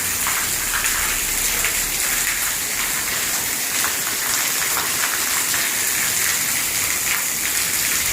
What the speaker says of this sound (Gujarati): જો કેવો જોરદાર વરસાદ આવે.